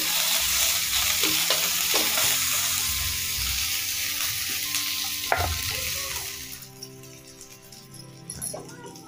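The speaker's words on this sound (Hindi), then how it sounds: "अच्छा से मतलब भूनना है।" Steady sizzling and stirring of onion and bay leaf frying in a hot pan for egg masala curry, with scraping sounds; the sizzle fades noticeably toward the end.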